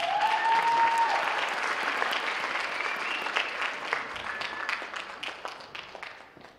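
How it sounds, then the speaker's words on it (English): Audience applause at a school district superintendent awards ceremony, steady clapping from a crowd that stays fairly loud and thins slightly toward the end, with a brief whistle-like tone near the start. "please give another round of applause to Miss Fatima Cortez"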